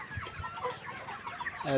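Chickens with watery, pus-filled eyes, kept separated on a farm, cluck softly and irregularly nearby, with a sharper call near the end and no talk.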